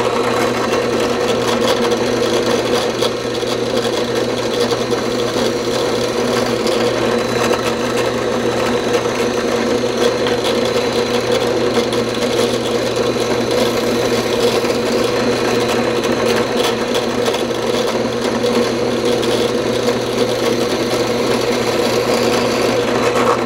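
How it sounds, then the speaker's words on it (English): A steady, continuous whirring hum of a small power drill with a 3/32-inch bit drilling small holes in a guitar truss rod cover, running without pause, close and fairly loud, with no speech. "the drill bit that I'm using is a"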